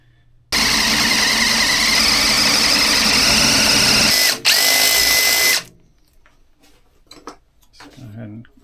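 A handheld power drill taps a 1/8 inch thread into metal for a chainsaw mill oiler mod: a loud, steady whine runs for about five seconds with a brief dip near the end, then stops, followed by faint handling clatter.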